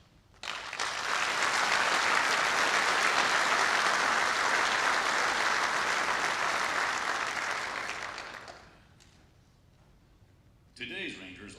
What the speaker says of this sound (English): Please give a round of applause for all World War II Rangers.